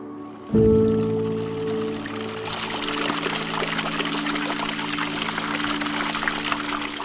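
Water pours steadily from an old village tap that serves as the main water source for over a hundred families, starting abruptly and then flowing as a continuous splashing stream with no talk.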